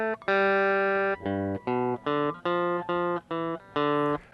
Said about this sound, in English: you might recognize that the melody is from La Bamba